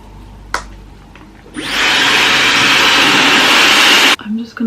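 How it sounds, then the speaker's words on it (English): A handheld hair dryer kicks on with a sudden roar and blows a loud, steady whoosh for a couple of seconds before cutting off abruptly, with a few small handling sounds before and after. "I'm going to get my hair dryer"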